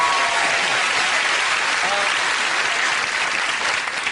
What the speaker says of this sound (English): that's worth a round of applause, isn't it?